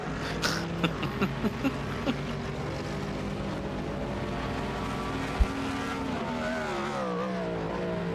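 A GTP prototype race car in a sim-racing sportscar event at Motorland Aragon, its engine note rising and shifting in pitch as it closes in and passes under a steady drone of the player's own car, with a couple of brief clicks.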